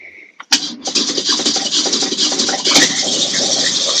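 A Polaris Sportsman 850/1000 ATV engine cranks once on a weak battery in freezing cold and catches, then settles into a loud, steady idle close by.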